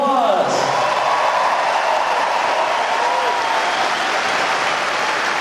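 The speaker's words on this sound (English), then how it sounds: "So please give them a huge round of applause." A concert audience at a live show in Providence, Rhode Island, applauds and cheers in a dense, steady roar of clapping that fills the hall without letting up.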